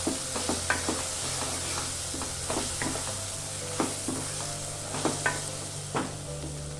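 Onion paste sizzles in a pan while it is stirred, with repeated scraping and knocking of a utensil over a steady frying hiss and no talk.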